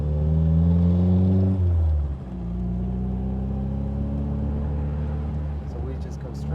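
Triumph Spitfire sports car engine, assembled from parts cars, revving loudly up close with a strong harmonic drone that drops in pitch, then settles into a steady idle; a person speaks over the engine.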